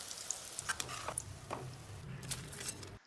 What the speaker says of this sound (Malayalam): ഇതുപോലെ നമുക്ക് അടുത്ത ബഞ്ചും ഫ്രൈ ചെയ്തെടുക്കാം.